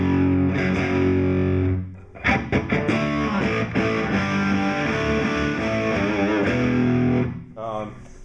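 Distorted electric guitar played through a General Guitar Gadgets BSI AB2 Distortion pedal, loud sustained chords and riffs with a short gap near the middle, ringing out alone.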